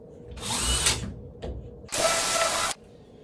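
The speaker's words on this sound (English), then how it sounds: "centering the drill bit in the middle of the pilaster, drilling through the headrail into the pilaster" A power drill whirs in two close, loud bursts as it drills through a headrail into a pilaster, the second longer and steadier, with a brief pause and a small click between them.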